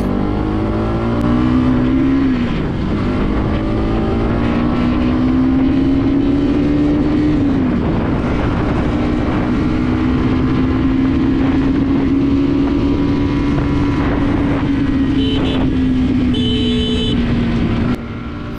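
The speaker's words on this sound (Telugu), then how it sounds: "దీని యొక్క పర్ఫార్మెన్స్ ఆ సెకండ్, థర్డ్, ఫోర్త్ గేర్లో ఎగ్జాస్ట్ నోట్ చాలా బాగుంది" A 2025 Bajaj Pulsar NS 200 exhaust drones loud and close while riding through second, third and fourth gear, its pitch climbing steadily and dipping briefly at each gear change, with no talking.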